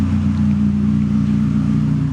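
A Mazdaspeed3 engine with an aggressive exhaust holds a steady, deep droning rumble, loud and close, with no clear rise in revs over the short stretch and no talking.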